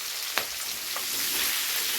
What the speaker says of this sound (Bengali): কুমড়োটা দিয়ে কিছুক্ষণ এটাকে একটু নেড়ে চেড়ে ভালো করে ভেজে নিতে হবে।